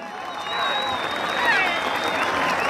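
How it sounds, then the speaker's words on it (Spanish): A rodeo crowd at a jaripeo in a bullring applauds steadily, a continuous wash of clapping and crowd noise with a whistle-like tone sliding through it. "Échenle el aplauso, mi público"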